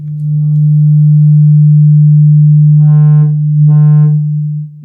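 A steady 150 Hz test tone played through an EL34 tube amplifier, a loud, sustained low hum lasting several seconds, with faint harmonic buzz appearing briefly near the end.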